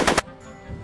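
A short, loud burst of gunfire in a Back to the Future video game, two quick close shots followed by a fading ring.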